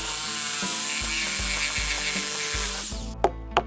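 A power saw cuts 2x4 wooden boards for a DIY raised garden bed, a loud steady whine running close for about three seconds before it winds down, followed by two sharp knocks of wood.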